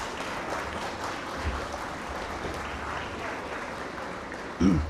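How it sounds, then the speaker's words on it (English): An audience at a college project expo prize ceremony applauds steadily, a dense, fairly distant clatter of clapping that holds evenly throughout. "Please give them a round of applause."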